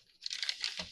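Paper folded and then cut for pocket-stuffing booklets gives a brief, close crinkling and snipping rustle lasting under a second.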